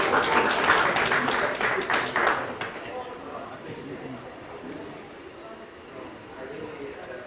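A ceremony audience at a solar industry signing event at COP28 in Dubai gives a burst of dense clapping. It lasts about two and a half seconds, then fades into quiet room murmur and chatter.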